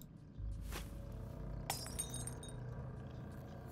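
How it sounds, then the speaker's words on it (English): In the stealth game Styx: Shards of Darkness, a thrown broken glass hits and shatters, two sharp crashes with tinkling shards ringing out briefly over quiet ambient background. "if I can throw a broken glass on there."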